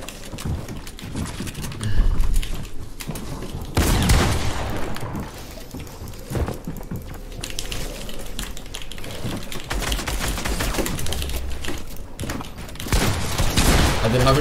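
Rapid video-game gunfire in a Fortnite-style battle, dense bursts of clicky shots rattling almost continuously and loud throughout, with brief lulls between volleys.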